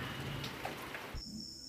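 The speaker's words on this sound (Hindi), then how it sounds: "ये देखिए यहाँ पे बारिश हो रही है" Rain falls outdoors in a village where cows stand in the downpour, a soft steady patter that drops away after about a second, leaving a thin high tone and quieter ambience.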